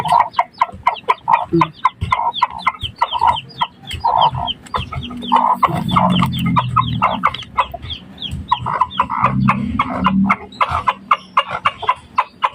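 Silkie hens cluck steadily in a busy, overlapping chorus at feeding time, short rhythmic calls repeating close by with low murmuring underneath.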